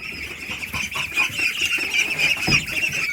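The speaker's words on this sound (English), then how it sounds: "let the little ducklings out. I can hear them." Young ducks call in an excited chorus from a pen, overlapping honks and quacks that keep going without a break.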